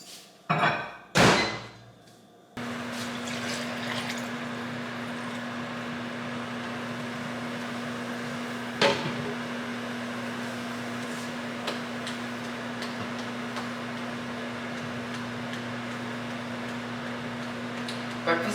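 A microwave oven hums steadily with a constant drone while heating a small bowl of blueberries with cinnamon, preceded by a few sharp clunks of the door and buttons, with occasional faint clicks during the run.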